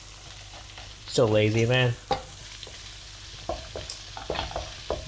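Eggs frying in a pan with a steady, close sizzle and light clatter of stirring, while a voice speaks briefly over it.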